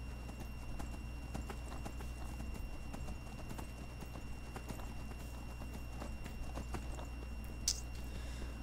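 Horse hooves clip-clop at a steady walking pace across ground in the Skyrim video game. The steps repeat in a regular rhythm at moderate volume over a constant low ambient hum, and a brief whinny-like sound stands out near the end.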